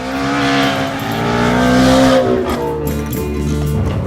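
Ford Mustang Shelby GT350R braking hard on track, with tires squealing over a loud engine note that holds and then falls away, close and continuous with no voices.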